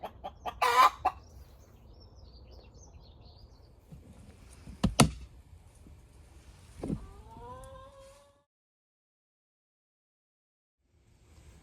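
A hen clucks in a few scattered bursts nearby on a farm, some rising into a drawn-out squawk, before fading to near silence.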